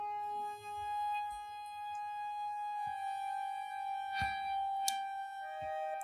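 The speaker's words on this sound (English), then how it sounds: "This is what the French horn sounds like, just in the background" A sampled French horn in GarageBand for iOS holds soft, steady sustained notes low in an orchestral backdrop. It stays faint and continuous, with a few light clicks and knocks scattered over it.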